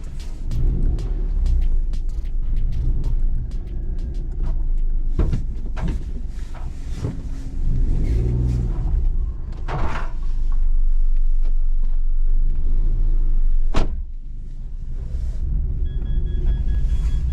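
Citroen C1 small hatchback out on a test drive, a steady low engine and road rumble running throughout, with a few bumps and knocks from the cabin and one sharp thud near the end.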